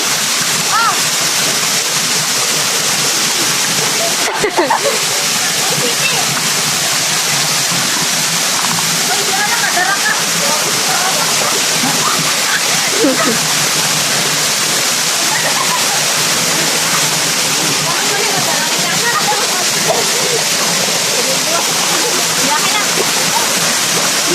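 Ambaktubig waterfall pours in a loud, continuous rush of water, close and unbroken for the whole stretch, with faint voices now and then beneath it.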